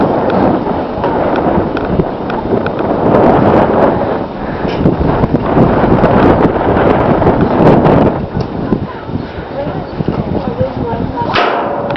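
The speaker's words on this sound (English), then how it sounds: "It's really windy today." Strong wind buffets the microphone on a lake during trout fishing at Taneycomo, Rockaway Beach, a loud continuous rumbling roar that dominates throughout, easing slightly toward the end.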